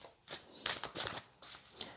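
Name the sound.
shuffling tarot cards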